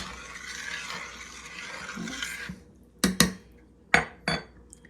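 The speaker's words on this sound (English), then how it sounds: "Stir the soup." A utensil scrapes and knocks against a pan while hot and spicy chicken noodle soup with broth and noodles is stirred, a steady scraping sound followed by several sharp metallic clinks.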